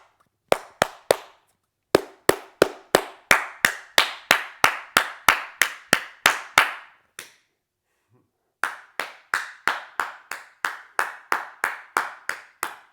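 Loud palm-to-palm hand clapping, sharp close single claps in several evenly paced runs with brief pauses between, each crack ringing briefly before the next, alone with no talking.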